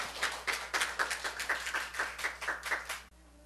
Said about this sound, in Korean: 우리 하나님 감사의 박수